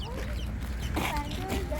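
Small birds cluck and peep among low background rumble outdoors, with faint voices mixed in.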